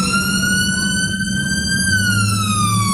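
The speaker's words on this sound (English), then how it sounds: "It's a siren." A loud, steady siren wails with a sustained rising-and-falling tone, continuous and close, with a low engine rumble underneath and no talking.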